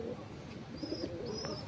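Pigeons, including fantail pigeons during their moult, give soft low coos with a couple of faint higher chirps at a moderate distance in a quiet setting.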